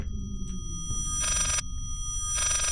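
Electronic telephone ringing in the horror video game Layers of Fear, two loud bright ring bursts separated by a pause over a low droning ambience, with a faint chirp early on.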